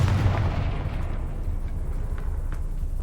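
A Confringo spell explosion in Hogwarts Legacy erupts as a loud, booming blast that rolls on as a dense, rumbling roar for a few seconds, with no speech.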